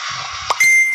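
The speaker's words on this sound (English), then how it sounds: "that noise y'all hear is people beeping in." Short electronic beeps from a phone call-in line as callers join, a quick high ding followed by a sustained tone over a quiet background.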